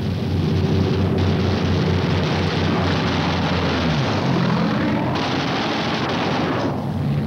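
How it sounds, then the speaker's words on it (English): Japanese fighter planes dive at B-29 bomber formations in 1945 wartime footage, with heavy continuous aircraft engine drone, shifting pitch as planes pass, and bursts of gunfire mixed in, loud throughout with no speech. "And now the first Jap snoopers appear, diving head-on into the formations."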